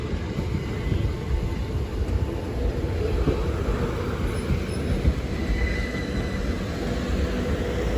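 A train rumbles at Dover Priory station, a steady low-pitched engine and wheel drone holding evenly throughout with faint higher squeals, no voices.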